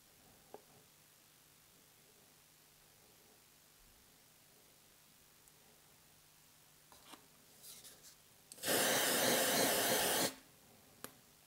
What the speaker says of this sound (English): This is cold spray